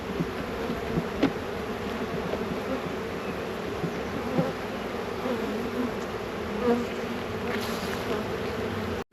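Honey bees buzz inside an open hive, a dense, continuous close drone with individual insects flitting nearby and faint movement from the beekeeper.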